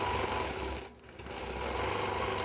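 A longarm quilting machine stitches along quilt sashing with a loud, steady, close mechanical whir that dips briefly partway through and then resumes.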